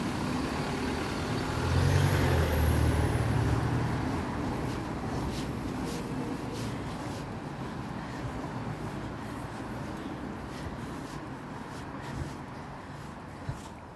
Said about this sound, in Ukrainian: Машини вузькими вулицями, машини.